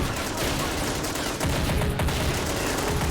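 Artillery barrage in the Army Men Battle Simulator video game, green army men under fire: a dense, continuous rumble of blasts and crackling shots, loud and close, with no talking.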